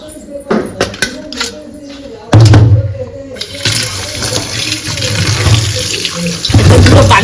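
Tap water runs into a sink while taro stolons (kochur gati) are washed. The loud steady gush is broken by splashing and sloshing surges as the stolons are rinsed by hand.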